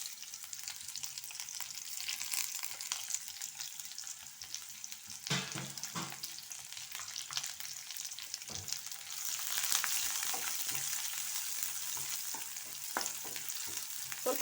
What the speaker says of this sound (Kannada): ಗಾರ್ಲಿಕ್ ಘಮ ಬರುವವರೆಗೂ ಸ್ವಲ್ಪ ಫ್ರೈ ಮಾಡ್ಕೊಳ್ಳಿ